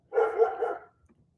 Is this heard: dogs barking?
yes